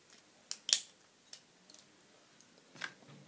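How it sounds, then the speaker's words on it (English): A stapler punching through paper while a poster is assembled, with a couple of sharp close clicks early on, then fainter scattered ticks and handling noises in a quiet room. "I'm going to staple it onto the piece of paper."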